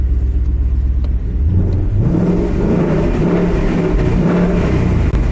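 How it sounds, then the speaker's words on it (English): A push-start car engine fires up and settles into a steady low rumble with a slight rise in revs, close and loud throughout. "The whole car rumbles as well."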